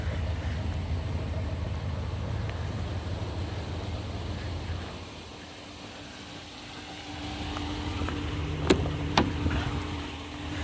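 A 2022 Ram 1500 with a 5.7 liter V8 idles with a low, steady rumble at moderate distance, dipping briefly midway, with a couple of sharp clicks near the end.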